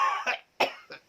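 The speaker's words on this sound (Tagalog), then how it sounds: "Cover your mouth when you cough" Three short coughs in quick succession, close and fairly loud, with no talking.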